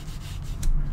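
Narwhal demonstrator fountain pen sketching on paper, a close, dry scratchy rubbing of nib strokes, short and continuous with a slightly firmer stroke toward the end.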